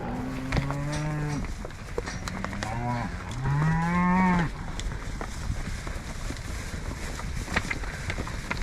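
Cattle on a farm moo several times in close succession, deep drawn-out calls at moderate distance, with wind buffeting the microphone throughout and no talk.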